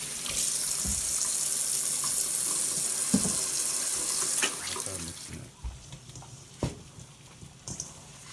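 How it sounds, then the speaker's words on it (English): Hands are washed under a kitchen tap while making pasta and meatballs, with water gushing loudly and steadily before the flow stops, followed by a few faint clicks and handling sounds. "I just have to make sure I wash my hands."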